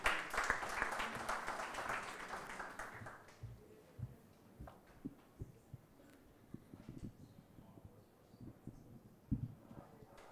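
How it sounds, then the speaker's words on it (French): Applause from a conference audience rises at the start and fades after a few seconds, leaving scattered claps and small knocks in a quiet room. "On l'accueille par des applaudissements"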